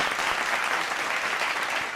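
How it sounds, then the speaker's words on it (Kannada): Brief, steady applause from a studio audience on a singing reality show, moderately loud, a dense wash of clapping with no break. "ನಿಮ್ಗೂ ನಿಮ್ಮೆಲ್ರಿಗೂ ಒಂದು ಚಪ್ಪಾಳೆ"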